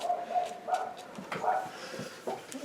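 A dog barks in short, sharp bursts at moderate distance, several yaps scattered through the clip over a quiet indoor background, with a faint voice briefly audible.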